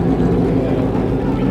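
A Ford Mustang Cobra with a 4-valve V8 rumbles at a Cars & Coffee meet, a deep, steady low-pitched engine drone close by through the short stretch.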